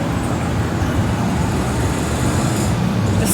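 Loud, steady street traffic in Boca Chica, with scooters and cars passing close by in a continuous rumbling roar and no talk over it.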